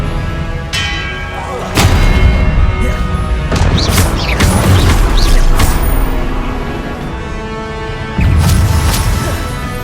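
Expelliarmus spells cast in Hogwarts Legacy, heavy booming magical impacts that arrive in several separate bursts over a steady rumbling game soundscape, with ringing chimes and whooshing tails between the hits.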